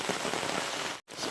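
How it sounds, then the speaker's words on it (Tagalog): Heavy rain pours down steadily, a dense close hiss of drops on surfaces that briefly cuts out near the end before resuming. "Talagang ulan na ulan."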